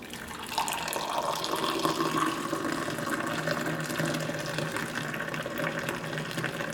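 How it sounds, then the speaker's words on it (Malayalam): Masala chai poured into a glass, a steady, close gushing stream of liquid that runs unbroken from start to finish. "ഈ ചായ നമുക്ക് ഒരു ഗ്ലാസ്സിലേക്ക് ഒഴിക്കാം."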